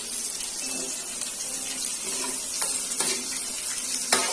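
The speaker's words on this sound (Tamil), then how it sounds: "இது எல்லாமே கறிக்கிடாம நல்லா வதக்கி விட்டுட்டு" Onions and spices sautéing in a pan for a quail curry, a steady soft sizzle with faint stirring scrapes and a few sharp clicks near the end, no talking.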